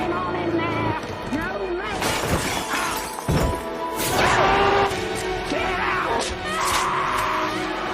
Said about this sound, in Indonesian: tidak sengaja memecahkan kaca rias dan pergi